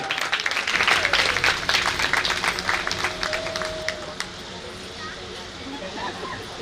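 Listeners at a Bhagwat Katha religious gathering applaud, a strong burst of clapping that peaks early and thins out over several seconds, with a voice speaking faintly over the fading claps.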